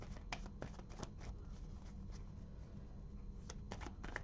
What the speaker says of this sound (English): I'm just going to shuffle till it feels right